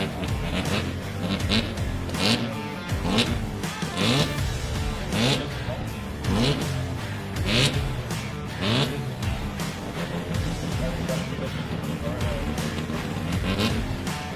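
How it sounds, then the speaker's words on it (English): Turbocharged 13B rotary drift car at Meremere Drift Park during a qualifying round, a continuous engine howl rising and falling in repeated revving surges, heard under a live commentator's talk. "filling up the live stream airwaves with that crisp 13B turbo sound"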